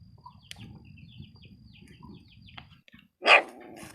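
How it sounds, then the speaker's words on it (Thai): A dog barks in a forest at night, a single loud close bark standing out near the end after a stretch of low rustling and faint scattered calls. "เอาเห่าอีก"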